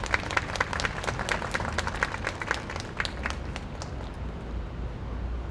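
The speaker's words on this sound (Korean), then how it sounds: "서로를 위해 따뜻하게 격려와 위로의 박수 좀 부탁드릴게요." Audience applause at a memorial reading event marking the anniversary of the Itaewon disaster, steady, dense clapping from a gathered crowd that fills the whole stretch and thins slightly toward the end.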